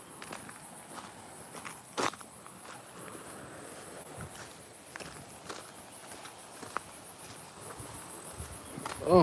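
Outdoors, crickets and other insects keep up a constant faint high chirping, with scattered soft footsteps and rustles passing close by and a brief louder thump near the end.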